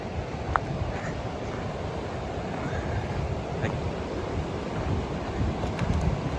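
A river flows along sandy banks beside the Appalachian Trail, giving a steady, close rushing wash with heavy wind buffeting the microphone throughout and no speech.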